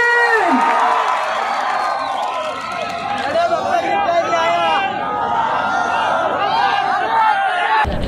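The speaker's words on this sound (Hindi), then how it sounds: "जोरदार तालियां लेडीज एंड जेंटलमैन" Crowd at an outdoor evening community event in Old City Hyderabad near Charminar, cheering and chattering loudly with whoops and steady babble throughout, voices mixed in the noise.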